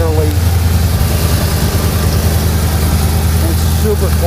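A car engine idles steadily and close after a bad header leak was repaired, a low, even rumble with a regular pulse throughout, while a few faint tones and clicks sit under it.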